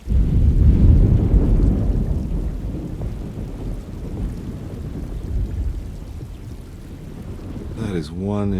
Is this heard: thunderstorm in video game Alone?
yes